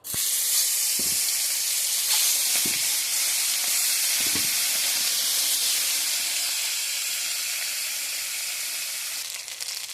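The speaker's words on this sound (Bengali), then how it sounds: "এই ভোলা মাছ ভাজবো" Bhola fish sizzles loudly in hot oil in a pan, a dense steady frying hiss with a few soft knocks early on, carrying on alone for the whole stretch.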